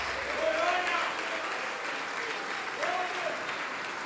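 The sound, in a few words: congregation applauding in church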